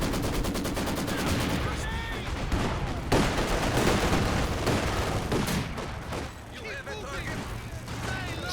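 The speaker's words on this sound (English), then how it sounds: "Oh, and the mortar shells are coming down now as well." Mortar shells land and gunfire crackles in a Company of Heroes 2 2v2 battle, with dense overlapping shots, a few heavy impacts and a constant din of combat, while a commentator talks over the noise.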